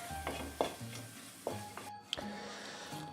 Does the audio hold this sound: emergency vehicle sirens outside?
no